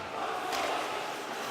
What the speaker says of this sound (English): And the trademark "Let's Go Bosco" cheer, the B-O-S-C-O, resonates through the crowd right here